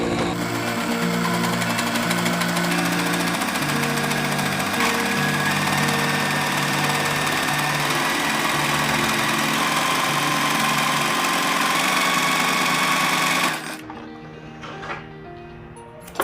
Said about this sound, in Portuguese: Eu vou passar o zigue-zague da minha máquina.